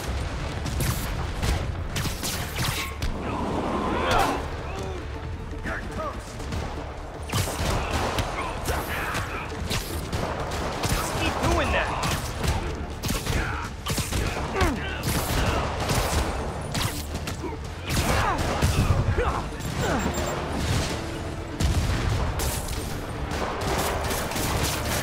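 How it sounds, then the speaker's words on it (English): Rockets blasting and exploding in Spider-Man Remastered, a dense run of booming detonations and crackling gunfire that keeps going without a break, loud and close, with game sounds layered over it. "Oh shit, more rockets?"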